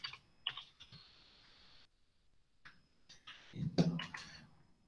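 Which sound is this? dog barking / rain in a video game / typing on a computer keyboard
typing on a computer keyboard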